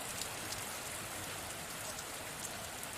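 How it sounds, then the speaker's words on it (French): Steady rain falls continuously, a dense even hiss without pauses, heard alone at moderate volume. "à entendre cette pluie au lointain"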